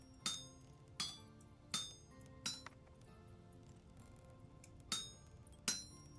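Iron being hammered on an anvil in the game Vintage Story, about six sharp metallic clinks with ringing overtones. They come in irregular pairs and singles with quiet gaps between them, and no one speaks.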